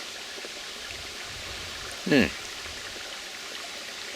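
Water trickles and flows steadily in a gold-bearing creek, a constant close wash throughout, with a brief spoken word in the middle.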